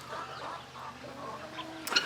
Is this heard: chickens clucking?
yes